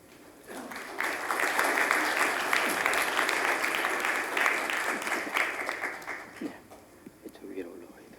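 Applause from a conference audience at a population-trends forum rises and sustains for several seconds, a dense steady clatter of many hands welcoming a lecturer, then thins out at the end.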